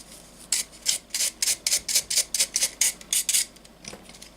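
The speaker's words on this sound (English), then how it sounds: "I'm just going to brush this down to get rid of all the dust." A brush sweeps dust off a wing of an Eduard Bf 109G-2 scale model aircraft in about a dozen quick, rhythmic, bristly strokes, close and fairly soft, with no talking.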